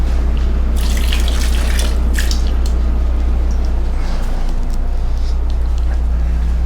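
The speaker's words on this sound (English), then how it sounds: "Yeah, let me add some cold water." Cold water runs steadily from a tap for the whole stretch, a loud continuous splashing stream with low rumble, heard close and alone without talk.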